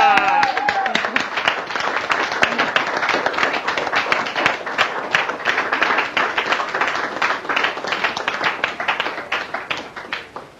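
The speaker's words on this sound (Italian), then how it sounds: "questo è stato davvero un applauso spontaneo" Supporters clap after a 2014 local election result, a lively crowd of individual claps with distinct sharp hits, steady and fairly close, with brief talk at the start.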